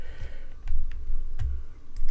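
Arcade gamepad buttons mapped to keyboard keys get pressed one after another, giving sharp plastic clicks at an uneven pace over a low background rumble.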